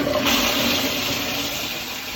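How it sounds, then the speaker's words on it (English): A household toilet flushes in a bathroom being cleaned: a loud, steady rush of water that stays strong for the whole stretch, with no voices over it. "Then, quick flush."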